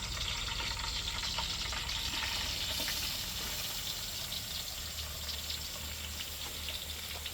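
Crushed garlic, pounded on a stone grinder, frying in a pan for a masala fish curry: a steady, close sizzling hiss with a faint bubbling undertone that runs without a break.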